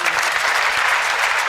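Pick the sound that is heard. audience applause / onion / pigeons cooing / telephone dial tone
audience applause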